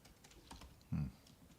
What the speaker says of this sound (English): Am I typing bothering you?